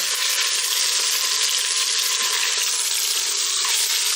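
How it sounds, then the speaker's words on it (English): Beef pot roast searing in a pot gives a loud, steady sizzle that holds without a break from start to finish, with no voices over it. "because we're searing the meat,"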